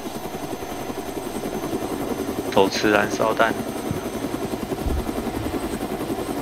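Helicopter in the military game ArmA, its rotor beating in a steady, fast low chop throughout, with someone talking briefly over it.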